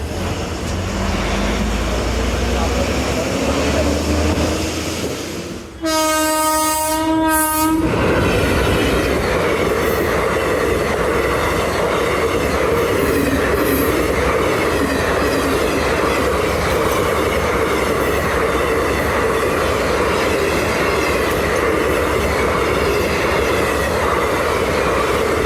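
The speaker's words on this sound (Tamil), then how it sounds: "சென்னை திருச்செந்தூர் வண்டி தான் போச்சு" A Chennai–Tiruchendur passenger train sounds a loud, sustained two-part horn, then rumbles past close by with continuous wheel and carriage noise for a long stretch.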